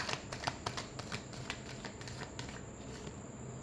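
Tarot cards being shuffled for a love reading, a quick run of close, crisp riffling flicks that thin out and soften toward the end.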